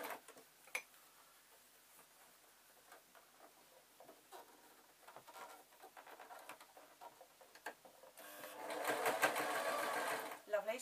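A sewing machine stitches over the seams of a zebra draft excluder, quiet patter and ticking at first, then a louder, rapid run of stitching near the end, close and alone.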